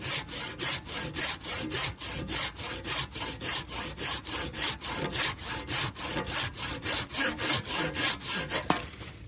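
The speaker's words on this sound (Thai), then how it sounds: "จะเลื่อยตรงนี้ออกนะคะ" A hand saw rasps through a lime tree branch in quick, steady back-and-forth strokes, close and continuous for the whole stretch.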